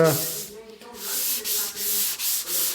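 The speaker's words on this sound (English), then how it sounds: "you sand the timber with the grain, not against it." Steady rhythmic sanding strokes rasp back and forth along the grain of stair timber, close and loud, in even repeated passes with no talking.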